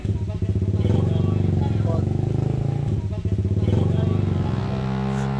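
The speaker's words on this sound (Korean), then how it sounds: "왜 오토바이 here?" A motorcycle engine chugs and putters steadily close by, climbing a steep road toward Tumalog Waterfalls in the Philippines, a continuous rough pulsing drone with people talking over it.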